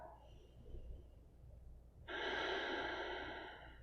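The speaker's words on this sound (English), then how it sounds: "Take a nice full breath." A full breath taken during a yoga flow: a soft, quiet inhale followed by a louder, breathy exhale lasting a couple of seconds, close and alone.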